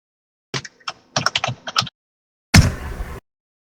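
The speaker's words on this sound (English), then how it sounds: "I'm typing this out too" Keys clack on a computer keyboard in short bursts of quick strokes, a pause, then a denser flurry of typing, close and crisp with no talk.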